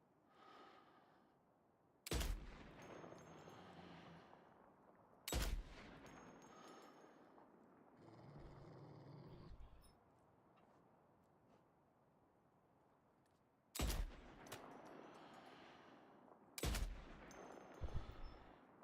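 Sniper rifle gunshots in the video game Death Stranding 2 come as four loud, sharp cracks spaced several seconds apart, each with a short echoing tail over quiet ambient game sound, with faint breathing in between.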